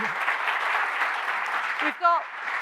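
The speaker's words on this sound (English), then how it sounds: "can everyone give Amaresh a round of applause?" An audience applauds a keynote speaker at a space summit, a steady wash of clapping throughout, with a brief voice near the end.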